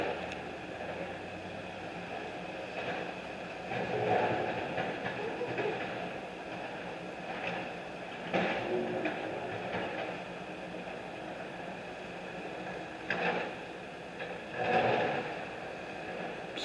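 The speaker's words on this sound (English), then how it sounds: "Still with the bulldozers." Bulldozers working at a construction site on Laurel Boulevard give a steady, distant rumble of heavy diesel engines, with a few louder swells and clanks rising out of the continuous background noise.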